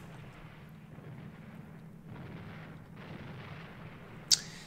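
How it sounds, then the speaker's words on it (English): Tank battle gunfire in the Panzer Battles North Africa video game: faint, distant muffled booms and low rumbling in waves, ending with one brief sharp click. "There's a little tank battle going up there."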